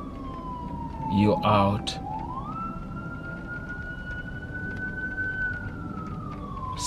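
An ambulance siren passes by outdoors, a loud sustained wail that sweeps down then climbs and holds steady before fading, with a brief stretch of speech near the start and faint ticking in the background.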